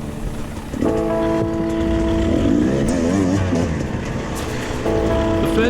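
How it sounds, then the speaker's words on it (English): An enduro motorcycle ridden hard on a cross-training enduro prologue lap, its engine revving loudly with rising and falling pitch, gunned hard at about one second and again near the end. "Ben is gunning the bike on any short, easy sections"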